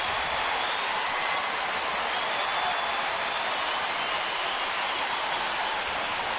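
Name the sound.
baseball stadium crowd cheering a catch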